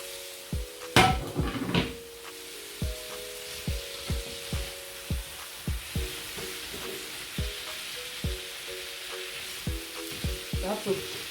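Sweet potatoes and sausages fry in a pan over low heat, a steady sizzle under repeated close scraping and knocking strokes of a stirring utensil against the pan, with no one speaking.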